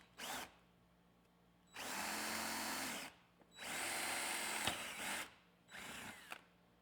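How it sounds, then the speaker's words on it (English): A power drill with a 5/16 bit whirs in three bursts of a second or so, with brief pauses between, close and steady, drilling holes upward from the bottom of a motorcycle rack; no talking. "Now I got to drill 2 holes with 5/16 bit from the bottom"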